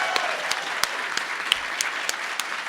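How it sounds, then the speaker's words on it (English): Steady applause from a convention panel audience fills the space, dense clapping with a few sharper claps standing out, no voices on top. "I think we need at least one more round of applause for Sibsy and Raven over here"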